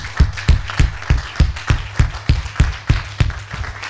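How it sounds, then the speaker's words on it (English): Crowd noise at a T20 cricket championship final, heard as a steady run of sharp, rhythmic claps and bursts of cheering repeating about twice a second, loud and close, with no talk over it. "You can hear the cheer"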